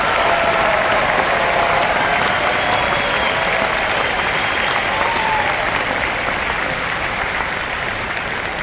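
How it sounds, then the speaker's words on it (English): Large crowd applauding at a university commencement ceremony, a loud, dense and continuous wash of clapping that holds steady throughout, with faint cheers rising briefly above it. "Please give them a large round of applause."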